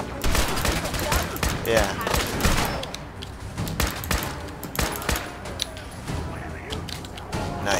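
Sharp, loud gunshots from a Fallout 4 firefight crack out in rapid, irregular bursts. Someone speaks briefly between the shots.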